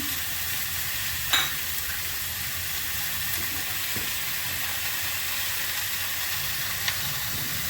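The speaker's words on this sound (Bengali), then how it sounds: "হলুদ দিয়ে দিলাম কিছু কাঁচা লঙ্কা দিলাম" Turmeric and green chillies fry in a pan on a home kitchen stove, giving a steady, moderate sizzle throughout with a couple of brief clinks or stirring knocks and no talk.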